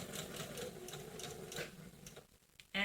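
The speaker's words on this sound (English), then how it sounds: "So I'm going to understitch this now." A sewing machine understitches bias tape on a garment, running in a quick, even mechanical rattle close by, then stopping briefly before a sharp sound at the end.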